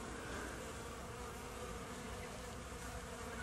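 Honey bees buzz at a beehive in an apiary hit by Varroa mite. The dense, steady drone of many insects hums close by for the whole stretch, with no voices.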